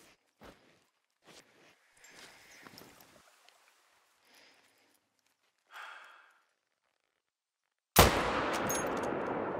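A single loud, sharp hunting rifle shot near Layton Lake in a hunting game, cracking out abruptly after several seconds of quiet rustling and footsteps, then ringing into a sustained echoing tail.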